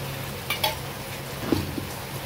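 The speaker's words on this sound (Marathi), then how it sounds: "थोडंसं तेलात त्याला परतून घ्या." Red masala, coriander powder and turmeric fry in oil in a pan for sambar, giving a steady soft sizzle with a few faint utensil clicks as it is stirred.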